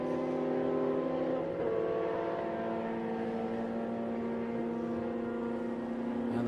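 Vintage race cars from SVRA run their final lap at the Austin circuit, their engines droning steadily and fairly loud with layered, sustained tones as several cars circulate together.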